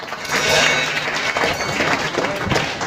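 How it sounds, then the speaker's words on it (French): A church congregation claps loudly in sustained applause that swells and then holds steady, with voices mixed in over the clapping. "Il faut l'applaudir très fort."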